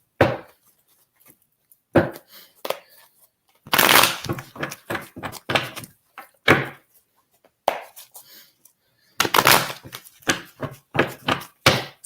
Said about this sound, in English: So let me shuffle the cards for you.